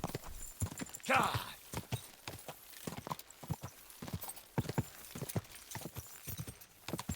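Horse hooves clip-clop steadily on the ground in the medieval video game Kingdom Come Deliverance II, a close, rhythmic trotting beat that runs throughout with some voice sounds mixed in.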